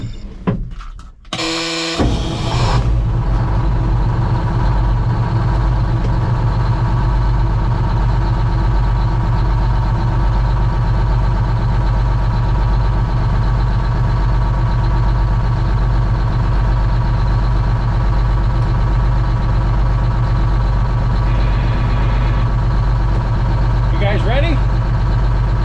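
GMC Crackerbox semi truck with a Detroit Diesel engine: after a brief rough burst at the start, a loud, steady, low diesel idle drones on unbroken for the rest of the stretch.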